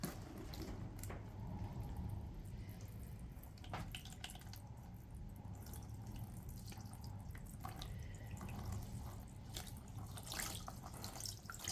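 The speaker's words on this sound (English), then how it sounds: "all you do is pour water in and they expand a lot" Water is poured onto a dry compost brick in a kitchen, a soft steady trickle and splash with occasional drips, fairly quiet and continuous, with no one speaking.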